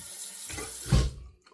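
Tap water runs briefly into a sink as a single-edge razor blade is rinsed, a short close gush that surges then cuts off.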